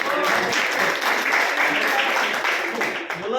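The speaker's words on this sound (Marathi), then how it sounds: "टाळ्या वाजवा मित्रासाठी आपल्या" Students at a college founder's birthday celebration applaud a classmate whose name is called, with dense clapping from a crowd that continues throughout while voices talk over it.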